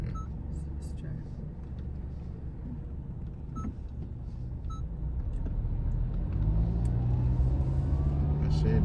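Road traffic rumbles steadily beside a car wash, a low engine drone that swells louder toward the end as a vehicle passes close, with a few faint beeps and people talking over it.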